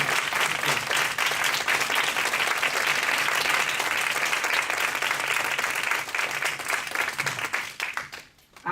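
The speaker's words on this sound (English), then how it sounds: "would you please stand and accept a warm round of applause from all of us for your hard work?" Warm applause at a school board meeting honoring steering committee members, a dense sustained round of clapping from the audience that holds steady, then fades out near the end.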